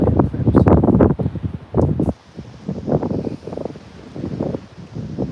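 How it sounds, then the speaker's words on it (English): Gusty wind buffets the microphone outdoors in an old New England cemetery, roaring in loud rumbling waves that ease briefly and then return, with no voices. "Sorry guys if you're hearing wind and Dane's always cold."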